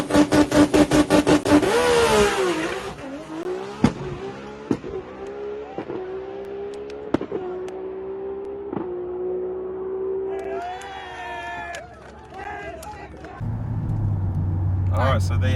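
A race car engine revs hard, then drones through repeated gear shifts as it accelerates down the track, loud and close, with sharp clicks between shifts.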